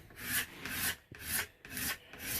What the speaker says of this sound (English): this little scraper actually removes a significant amount of material on each strike